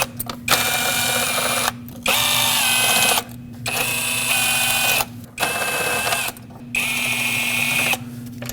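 A powered ratchet breaks loose the 5mm Allen head intake manifold bolts on a 2006-2015 Lexus IS250, giving about six loud, close buzzing runs of a second or so each, separated by brief silences.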